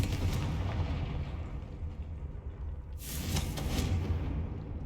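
A Confringo fire spell in Hogwarts Legacy hits its target with a heavy, booming blast, sounding loud and close over a constant low rumble of game ambience, with no one talking.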